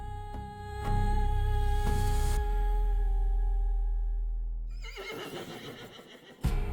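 A horse whinnies loudly with a long, ringing call that fades, followed by a brief rustling thump.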